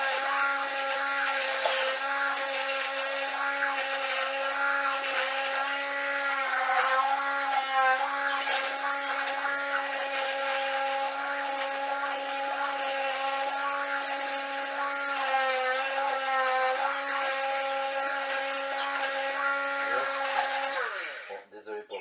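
A blender whirs loudly and steadily for a long stretch, its motor pitch wavering slightly, then winds down abruptly at the end.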